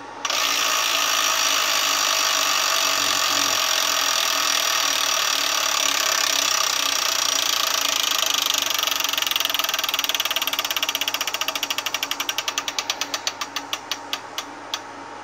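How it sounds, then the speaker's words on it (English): The wheel of a Wheel of Fortune electronic tabletop game spins with a continuous mechanical whir that breaks into rapid ratcheting clicks, which gradually slow and spread apart as it coasts to a stop. "Luigi, you start to spin the wheel."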